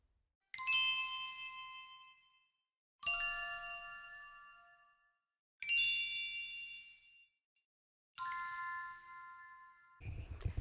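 Sound bath instruments played on a Reiki table: four separate struck metallic tones, each ringing bright and clear before fading over about two seconds, with a short rustle at the end.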